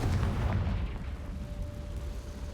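A Confringo fire spell blasting in Hogwarts Legacy on PS5: a loud, rumbling explosive burst that fades into a lingering low roar and a faint sustained tone, with no voices over it.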